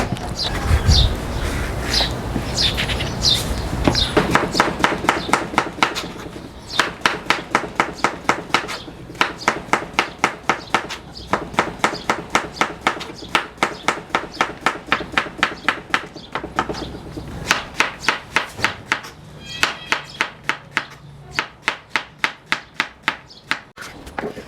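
A knife chops through peeled pumpkin on a board, a long run of sharp, evenly spaced cutting taps, close and crisp, after a few seconds of quieter handling noise.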